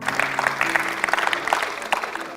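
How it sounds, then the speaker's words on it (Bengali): An audience claps loudly and steadily to honor the winner of a quiz round at a school event at Bandura Holy Cross School and College. The dense applause runs the full length with no pause. "ওর জন্য হবে জোরে একটা হাততালি"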